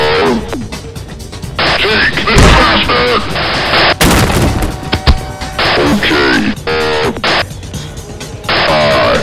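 Loud video game firefight with bursts of gunfire and a grenade blast, harsh and clipped, with shouted voices over the combat.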